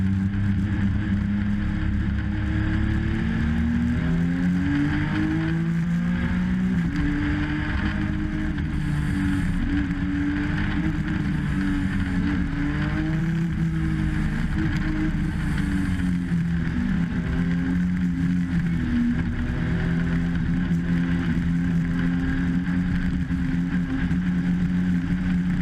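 Legends race cars accelerating off a green-flag restart at Meridian Speedway, a continuous loud engine drone rising and wavering in pitch as the cars pull away, with wind buffeting throughout.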